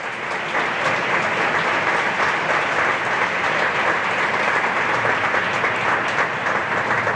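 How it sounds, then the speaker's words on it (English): A large gathering of company employees at an aerospace firm gives sustained applause, a dense, even wash of clapping that stays loud and steady for the whole stretch with no talk over it. "Please, a round of applause for the team."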